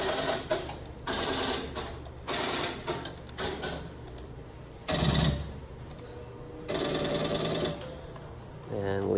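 An electromechanical telephone step switch clatters after a call is originated, loud bursts of rapid mechanical ratcheting separated by short pauses, heard close up with no talk.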